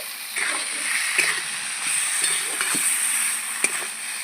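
Fried potatoes go into a pan of well-cooked ground masala for a thin village-style rohu fish curry, giving a steady close sizzle with a few soft stirring knocks and no speech.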